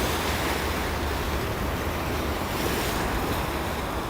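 Choppy waves on the East River in New York City, a loud continuous wash and slosh of water with wind buffeting the microphone, no talk.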